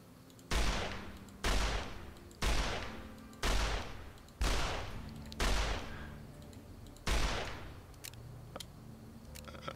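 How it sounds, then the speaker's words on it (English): Seven evenly spaced revolver shots from a Magnum-style M1895 revolver in Fallout New Vegas, each a sharp booming crack with a short decaying tail, followed by faint mechanical clicks of reloading. "let's fire some rounds"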